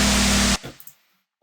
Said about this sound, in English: also just remove the white noise